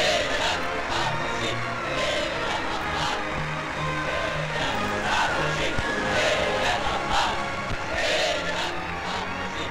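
A vast crowd fills Heroes' Square in Budapest during the 1949 May Day parade. It makes a steady, dense roar of many voices, with cheering swelling at intervals and continuing throughout.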